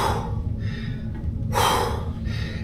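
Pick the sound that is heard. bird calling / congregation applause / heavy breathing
heavy breathing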